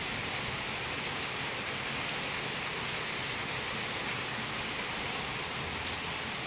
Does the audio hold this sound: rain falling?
yes